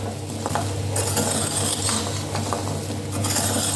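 A utensil scrapes and stirs thickening sugar syrup for khurma in a metal pan, with steady clinks and a light sizzle, close and continuous without talk.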